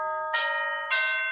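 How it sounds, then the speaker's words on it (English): A household doorbell chiming during a live vintage home décor sale, two sustained ding tones about half a second apart over a steady tonal hum, clear and moderately loud with no talk. "it's the doorbell rang"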